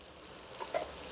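Ginger garlic paste fries in a pan, a soft, quiet sizzle with a couple of small crackles near the end.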